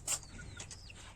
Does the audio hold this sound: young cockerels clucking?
yes